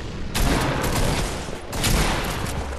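Loud gunfire from a multiplayer shooter comes as two dense bursts of rapid shots close up, with a brief gap between them.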